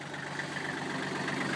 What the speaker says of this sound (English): a Kubota L35 Kubota tractor combo